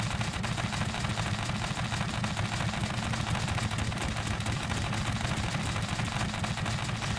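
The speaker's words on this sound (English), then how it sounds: "it'll just start randomly shooting the, well, board" An automated contraption in Scrap Mechanic firing rapidly and continuously at a noughts and crosses board, a dense, steady stream of mechanical gunfire close and loud throughout.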